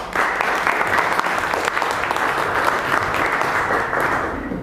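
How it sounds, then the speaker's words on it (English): Audience at a Toastmasters public speaking meeting gives a steady, full round of applause, many hands clapping densely and close for several seconds with no talking. "Please welcome with a great round of applause, Joanna."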